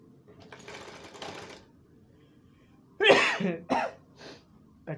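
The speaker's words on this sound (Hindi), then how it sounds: "कच्चा सिलाई मार लेंगे" Sewing machine running as it stitches a coat sleeve: a steady close whir for a second or so, then a pause, then a cough and throat clearing nearby.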